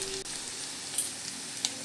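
Steady frying sizzle of ground spice paste of ginger, garlic, green chilli and tomato added to fried onions in a pan, a continuous hiss with a couple of faint clinks, no voices.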